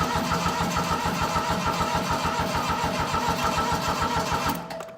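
A glow-plug engine cranks over and over without catching, a steady rapid chugging of the starter at close range that runs the whole time and cuts off abruptly at the end.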